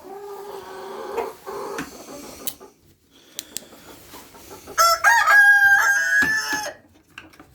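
A rooster crows loudly in a farmyard among hens, a strained, rising cock-a-doodle-doo following scattered clucks, scratching and knocks from the chickens.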